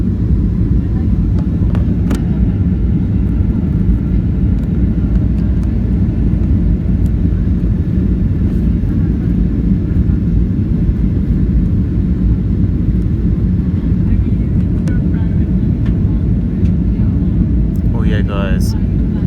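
Loud, steady low rumble and broadband roar inside the cabin of a Ryanair Boeing 737-8AS(WL) in flight before landing on a Stockholm to London route, continuous throughout, with faint brief voices near the end.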